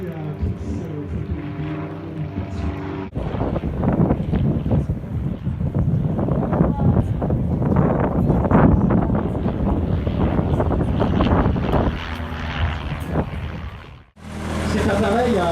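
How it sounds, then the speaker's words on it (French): A vintage training airplane that taught thousands of pilots flies past at an air meeting, its propeller engine droning loud and steady amid wind noise while an announcer speaks over a loudspeaker. "Cet appareil a formé des milliers et des milliers de pilotes, en particulier pendant le second conflit mondial."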